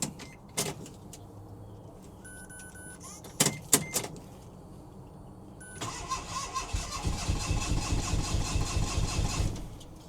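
A Daihatsu Mira van engine is cranked after its fuel system has been primed, following a few short clicks and whirs. The starter then turns over in a long, rhythmic, close-up churn that builds steadily without the engine catching.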